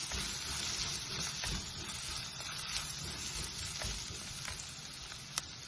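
Turmeric powder sizzles in a pan on low heat while being mixed, a faint, steady frying hiss with light scraping of stirring and a small click near the end.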